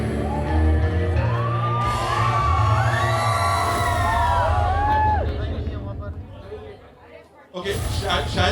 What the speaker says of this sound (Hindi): जोरदार तालियां फरीदा मैम के लिए एक बार.